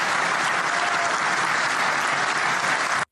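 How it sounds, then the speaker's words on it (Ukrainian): Dense, roaring storm of applause from an audience at a Polish-Ukrainian commemorative gathering, loud and continuous until it cuts off abruptly. "Обидві тези викликали шквал оплесків присутніх"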